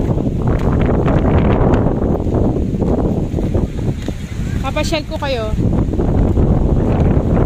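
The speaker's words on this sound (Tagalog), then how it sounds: "Sobrang lakas ng hangin." Heavy wind buffets the microphone on Boracay beach in the Philippines, a loud continuous rush and rumble, while someone speaks briefly partway through.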